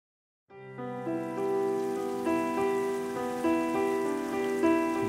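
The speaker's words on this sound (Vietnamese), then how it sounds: "cứ mưa thế này, nước dâng cao thì lại ướt hết cả bây giờ" Steady cartoon rain hisses throughout, beginning abruptly and staying constant beneath sustained musical tones that swell and shift over it.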